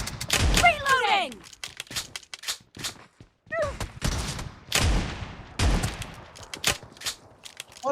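Gunfire in a PUBG Mobile team deathmatch round, with shotgun blasts and rapid bursts cracking repeatedly and close over game noise, interleaved with a voice talking throughout.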